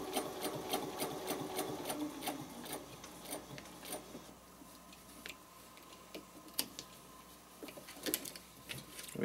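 A sewing machine stitching a spider web project, rapid even ticking stitches in bursts, close but fairly quiet, pausing and restarting with lighter clicks in between.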